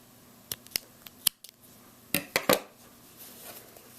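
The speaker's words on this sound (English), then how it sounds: "cut our yarn" Scissors snip through yarn while finishing a crocheted baby bootie, a few sharp close clicks and cuts in quick succession, then quiet handling.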